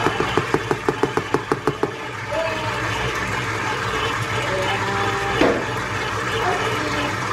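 A KitchenAid Pro Line 7-quart stand mixer kneads wet Amish white bread dough, opening with a rapid run of rhythmic knocks before settling into a steady, loud motor whir.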